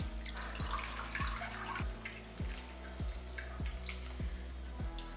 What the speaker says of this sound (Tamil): குக்கரில் வச்சுட்டு தண்ணி ஊற்றிக்கலாம்